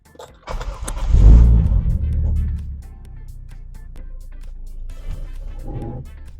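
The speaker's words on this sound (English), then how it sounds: "So let me back out this car so we can, walk around it." An original 1990 Mercedes 190E Cosworth fitted with a Toyota engine and BMW transmission starts up and backs out, a loud engine swell early that settles into a steady idle rumble with some faint clatter.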